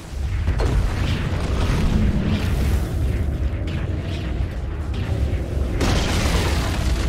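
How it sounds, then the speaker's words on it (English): A tower is destroyed in Dota 2 with a dense, continuous rumble of explosive booms and crashing debris. A sharper burst comes near the end, and there is no talk. "Radiant's bottom tower has fallen."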